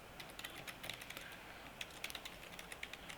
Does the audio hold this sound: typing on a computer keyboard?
yes